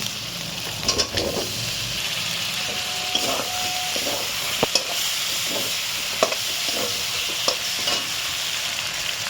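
Chicken pieces tipped into a hot pan with pepper and turmeric keep up a steady sizzling hiss, with several sharp scrapes and clacks of the spoon as the meat is stirred, close by and without speech.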